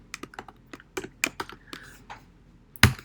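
Typing on a computer keyboard while entering C++ code, a quick irregular series of crisp close key clicks, ending on one louder key strike.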